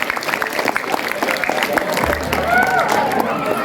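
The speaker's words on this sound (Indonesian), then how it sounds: "Terima kasih tepuk tangan." Students at a school reading event applaud and cheer, a short burst of crowd clapping mixed with chatter and voices, moderately loud and rising toward the end.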